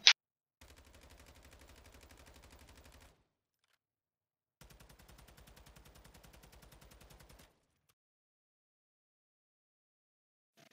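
Two sustained bursts of rapid automatic rifle fire from the TAQ-56, M13B or Lachmann 556 fitted with attachments in Warzone 2.0, each about three seconds of evenly spaced shots separated by silence, crisp and close.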